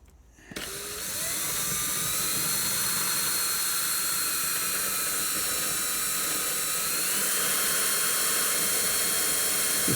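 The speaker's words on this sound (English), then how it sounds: "Just take your time when you're drilling" Steady high-pitched drill whine, loud and close, as a bit cuts through a reused plastic aeration fitting for a wormery; it starts abruptly after a brief quiet moment and holds a continuous buzzing tone.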